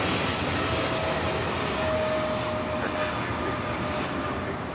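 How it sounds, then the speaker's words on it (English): A Korean Air Cargo Boeing 777 freighter takes off from LAX runway 25 left, its engines a continuous distant roar with a faint whine on top, steady and unbroken. "taking off the Seoul on the 777 freighter"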